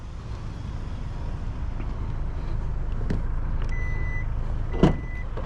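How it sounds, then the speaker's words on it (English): The powered trunk gate of a 2024 Hyundai Santa Fe Calligraphy Edition opens over a low background rumble, with two short electronic beeps and a sharp click near the end. "Powered trunk gate, which is nice."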